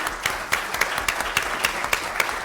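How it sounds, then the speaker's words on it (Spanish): A panel audience on electoral justice gives warm applause for a magistrate, a brisk, steady patter of many hands with louder individual claps standing out, no voices. "Un caluroso aplauso a nuestro apreciable magistrado."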